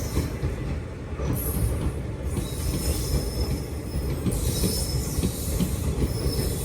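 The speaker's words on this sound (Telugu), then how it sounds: "వ్యాప్ 4 లోకోమోటివ్" Passenger train hauled by a WAP-4 electric locomotive, running from Karaikudi to Virudhunagar, rolls past close by with a continuous rumble of wheels, rattling clickety-clack and high wheel squeals rising and falling.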